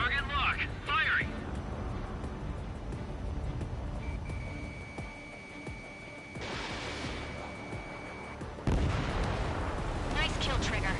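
Gunfire in an aerial combat video game, with bursts and booming blasts over engine roar and a steady tone, under radio-style voices talking.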